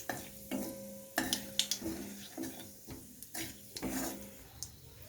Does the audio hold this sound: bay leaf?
yes